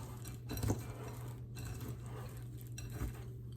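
Chocolate chip morsels being mixed by hand with walnuts and flour in a bowl, giving soft scraping and a few light clinks of utensil on dish, quiet and close, with no talking.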